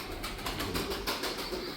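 Pigeons coo softly in a pulsing, repeated rhythm, close by and steady, with a faint rustle of wings in the background.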